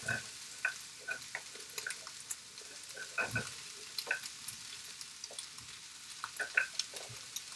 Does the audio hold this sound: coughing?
no